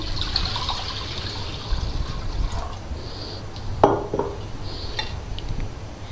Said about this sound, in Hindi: वाटर ऐड कर दूँगी मैं।